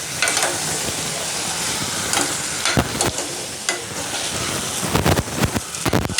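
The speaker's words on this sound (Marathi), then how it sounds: "छोट्या गॅसवरच चांगलं परतून घ्यायचा" Chicken sautéing in a pan over a low gas flame for a dry chicken sukka, a steady close sizzle with scattered sharp scraping stirs near the end.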